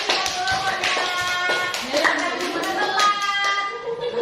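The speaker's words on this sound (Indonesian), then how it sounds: "tepuk tangan untuk Bapak ini" A classroom group claps for a presenter, a dense patter of hand claps running throughout, with voices talking over it.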